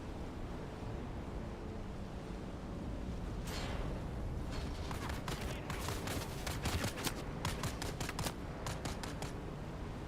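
Video game gunfire heard as scattered sharp shots and short bursts over a steady rushing, wind-like background, growing denser toward the middle and then easing off.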